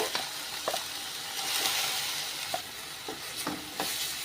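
Onion and tomato paste fries and sizzles in a pan, with a steady crackle and a few sharp scraping clicks as it is stirred, close and alone.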